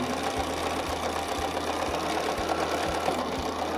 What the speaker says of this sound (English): drop our needle and lock our stitches, and repeat the design.